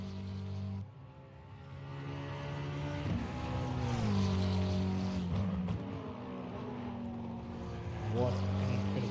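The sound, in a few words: McLaren 720S GT3 engine shifting gears in a racing video game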